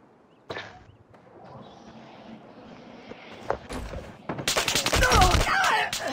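Gunfire in a first-person shooter game: a few isolated shots over a quiet background, then a loud, dense volley of rapid fire, with faint voices underneath.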